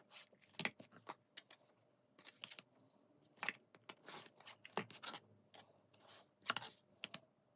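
Sewn quilt fabric is cut along a ruler, giving a quiet, irregular series of sharp scrapes and ticks with short pauses between them, close by and faint.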